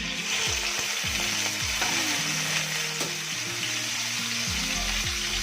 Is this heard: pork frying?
yes